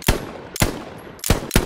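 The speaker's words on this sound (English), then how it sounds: "The environment will have an effect on the sound of your weapon." Weapon gunfire in the video game Hell Let Loose: four sharp, loud bursts of shots spaced unevenly across the moment, each with a short ringing tail between them.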